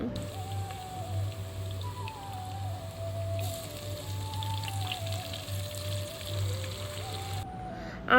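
Onions for a hilsa fish curry fry steadily in a pan, giving a continuous soft sizzle and crackle under a faint tonal hum, with no speech.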